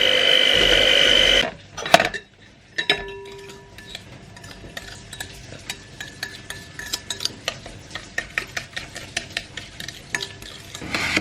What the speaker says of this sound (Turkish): Çırpacağım tamam mı?